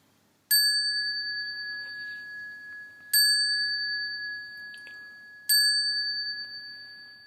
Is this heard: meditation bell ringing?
yes